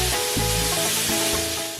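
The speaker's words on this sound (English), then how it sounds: "Add the sirloin and sear on one side without touching until it looks like this. Then stir the beef for another 30 seconds." Sirloin beef searing in a hot wok gives off a steady, loud broadband sizzle, with brief stirring scrapes and clatters now and then.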